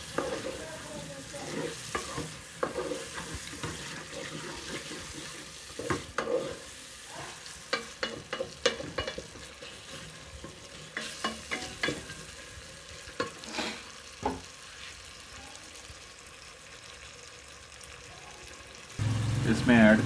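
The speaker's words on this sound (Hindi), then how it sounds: "अब इसमें टमाटर डालेंगे। अब इनको अच्छी तरह भूनेंगे।" Chopped tomatoes fry with onion and ginger garlic paste for turnip bharta, giving a soft sizzle broken by repeated scraping stirs of a spoon against the pan, close and fairly quiet, with a louder burst near the end.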